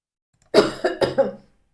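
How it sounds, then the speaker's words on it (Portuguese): One person coughs close up, a quick burst of three or four harsh coughs in a row, then silence. "desculpa, eu tô com uma tosse hoje"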